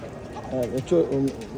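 Pigeons coo near chickens at a cave entrance, a few short rolling coos close by, partly under a person talking.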